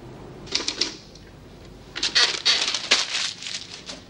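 Keys struck on a typewriter in an office, coming in short bursts of sharp clacks, a quick cluster of strikes, a pause, then a longer run of irregular taps at close range with no talking.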